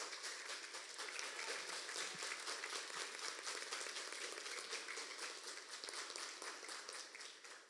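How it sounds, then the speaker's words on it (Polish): A hall audience at a children's song festival gala in Łasin breaks into dense, sustained applause, a steady wash of many hands clapping that slowly fades toward the end. "wielkie, wielkie brawa"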